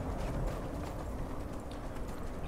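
Horse hooves clip-clop steadily in Skyrim, a continuous close trot running the whole stretch with no talk over it.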